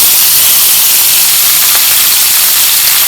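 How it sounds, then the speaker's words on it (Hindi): Boiled macaroni tipped into two spoons of hot oil in a pan, giving a steady, loud hiss of steam and sizzle that fills the whole moment without any voices. "पैन लेंगे, इसमें 2 चम्मच ऑयल डालेंगे, उबाली की हुई मैकरोनी डालेंगे"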